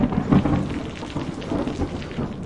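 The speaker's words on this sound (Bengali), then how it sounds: "ঝোড়ো হাওয়ার সাথে একটানা মুষলধারে বৃষ্টি আর ঘন ঘন বাজ পড়া" Heavy rain pours down in a storm with rumbling thunder, a dense, continuous wash of noise that is loud and close throughout, with no voices.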